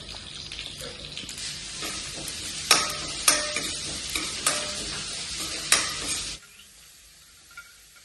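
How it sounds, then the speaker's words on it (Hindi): Onion frying with spices and ajwain while being stirred in a pan: a sizzle under sharp scraping stirs and clicks, which stops abruptly near the end and leaves near silence. "प्याज जो है इसी फ्राई होगी"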